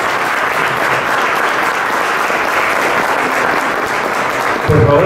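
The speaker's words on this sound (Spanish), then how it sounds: "Regalémosle otro fuerte aplauso, por favor, a nuestros invitados de lujo." Audience applause for honored guests at a formal ceremony, a loud continuous round of clapping held steady for several seconds, with a brief voice at the very end.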